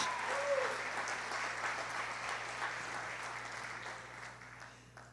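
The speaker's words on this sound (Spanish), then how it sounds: "Dale fuerte ese aplauso a Jesús" A congregation at a church service gives a round of applause to Jesus, a fairly faint, even spread of many hands clapping that fades slightly over five seconds above a low steady hum.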